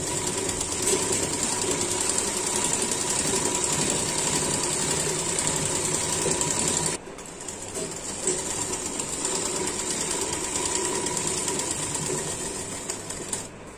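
A sewing machine stitches trousers with a steady, continuous mechanical whir that runs close and loud, pausing briefly at the midpoint before resuming at the same even pace.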